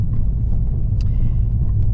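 An Abarth car driving along a road on the way to work, heard from inside as a steady low engine and road rumble that continues evenly throughout, with a couple of faint brief higher clicks.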